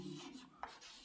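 Brief scratch of a marker or chalk writing on a board during a physics class, a soft rubbing stroke followed by a quick tap, faint and close with no voices.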